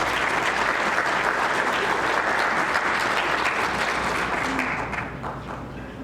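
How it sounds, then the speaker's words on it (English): Audience applause for a speaker at a conference on African-American history and culture, a dense, steady clapping from a large crowd that carries on for several seconds and then tapers off at the end. "please give her a round of applause."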